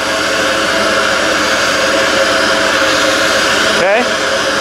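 A HotJet II trailer jetter fires up and runs at idle, near 2000 RPM, giving a loud, steady, broadband engine and jet roar close by that continues without a break, with a brief surge near the end.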